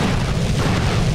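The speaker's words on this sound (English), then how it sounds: "I saw the missile explode right in front of it" A missile exploding in GTA San Andreas, heard as a short, loud, roaring boom that fills the whole moment with dense rumbling noise.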